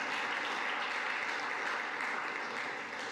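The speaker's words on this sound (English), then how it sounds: "So give yourself a nice round of applause." Sustained applause from a crowd at a Hispanic Heritage Month celebration in Brighton, a dense, steady wash of clapping throughout that tapers slightly at the end.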